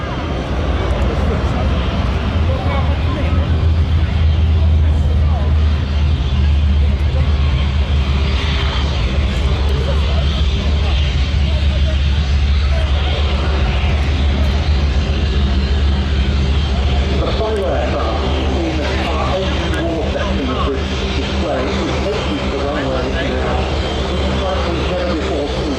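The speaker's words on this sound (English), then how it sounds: "MiG-17." A MiG-17 jet fighter displays at the Duxford summer air show, its engine a loud, continuous roar that fills the whole stretch and shifts in tone as it passes, with people talking throughout.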